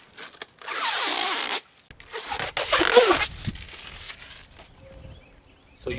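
A sticker is peeled off a 32-inch chick brooder in two long, ripping strips, with quieter handling rustles and small clicks in between and near-silence toward the end.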